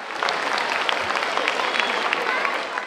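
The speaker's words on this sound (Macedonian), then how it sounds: "Ајде еден аплауз за другарчињата на Мила!" An audience at an international children's festival claps steadily in a dense, moderately loud round of applause for a child's friends, with a voice talking over it.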